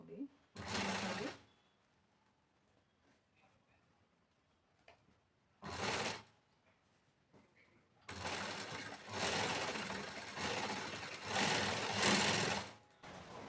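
A sewing machine stitches a sleeve onto the body of a lined blouse in three bursts: a short run, another brief run, then a longer steady stretch of whirring, with quiet handling between them.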